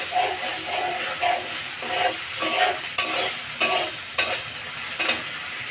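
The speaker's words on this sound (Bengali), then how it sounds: "এবার আমি সুন্দর করে মশলাটাকে ভেজে নিব" A spice mix for chotpoti fries in a pan under a continuous hiss, with rhythmic stirring scrapes about every half second, close up and without speech.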